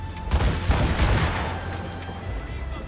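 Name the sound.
ship's guns firing a volley in Assassin's Creed Rogue, from a video game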